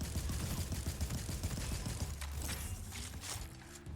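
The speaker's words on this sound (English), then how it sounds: "You can also still shoot when the shield is up." Rapid video-game gunfire with a shield raised, a dense run of sharp shots over a low rumble for the first couple of seconds, then thinning into scattered mechanical clicks and effects.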